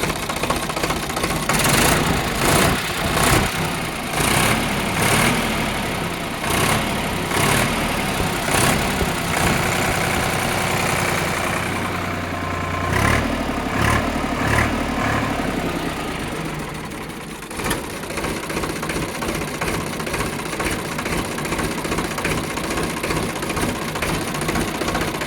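A Sonalika 745 tractor engine idles nearby with a steady, rhythmic diesel chug that keeps going throughout at a fairly even level.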